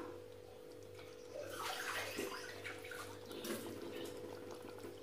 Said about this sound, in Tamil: இப்போது நம்ம அதுக்கு தேவையான தண்ணி கொஞ்சம் ஊற்றிடலாம்